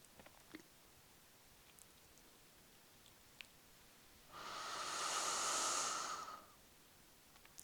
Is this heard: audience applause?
no